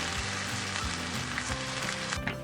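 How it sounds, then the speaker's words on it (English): Steady frying sizzle from a Himalayan salt block heated over charcoal, a continuous crackling hiss with faint pops and a low hum beneath, close and moderately loud with no talk. "We'll get that thing sizzling."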